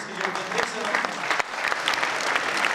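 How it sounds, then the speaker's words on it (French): A school crowd applauds the young cooks at a cooking event at Ecole de Molenbeek, with loud, sustained clapping and scattered individual claps standing out, and indistinct voices mixed underneath. "je vous demanderai tous d'applaudir tous les petits cuisiniers en herbe qui ont travaillé aujourd'hui"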